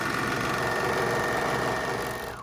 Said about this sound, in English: then go back to the serger